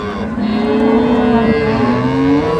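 A dairy cow with her calf at a cattle market gives one long, loud, drawn-out moo close by, the low tone sliding slightly in pitch across the whole call.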